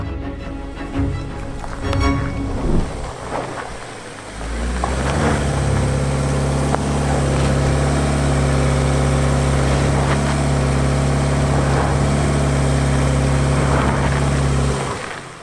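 A 2018 Subaru Outback with a CVT strains up a steep gold mine hill, its engine rising from a rough start into a loud, sustained, steady drone held close for several seconds.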